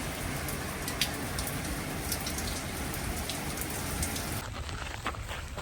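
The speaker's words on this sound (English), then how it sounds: "We had a little moment of just torrential downpour here." Torrential rain pours down in Stockholm, a dense, steady hiss of drops hitting the ground and nearby surfaces that continues throughout at close range.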